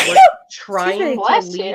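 A single sharp sneeze bursts out at close range, followed right away by a person talking.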